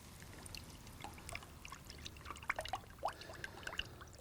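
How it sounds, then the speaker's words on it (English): Heavy whipping cream poured into a pan of oyster sauce for chargrilled oysters, a soft liquid trickle with a few faint splashes and drips, fairly quiet with no talking. "What I got going in now is 1 quart of heavy whipping cream."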